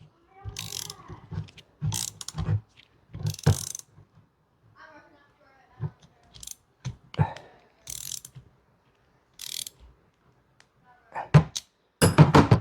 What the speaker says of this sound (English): We're going to make sure we tighten it down.